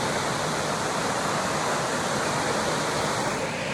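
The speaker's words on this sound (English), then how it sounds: "the large babbling brook" A large babbling brook in Carter's Notch, Jackson, New Hampshire rushes in a loud, continuous broadband roar of flowing water, steady and close throughout, without voices.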